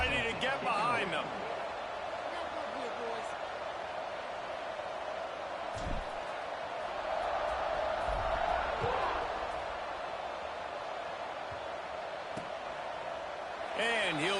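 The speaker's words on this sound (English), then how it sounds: "this crowd now ready to get behind them" A football stadium crowd at the kickoff of a Temple versus Florida Atlantic game, with a broad, steady roar and cheering underneath a commentator's continuous play-by-play.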